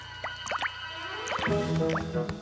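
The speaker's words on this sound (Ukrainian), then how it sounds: "Дивися, кам'яні зуби капають." Water drips from stalactites inside a cave, a scattering of faint, close plinks and plops over a quiet, echoing background.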